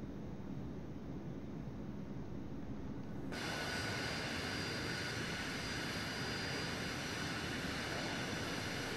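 Steady aircraft engine roar in Arma 3 as the plane slows for landing with flaps lowering, a continuous broadband drone that brightens partway through and holds without talk.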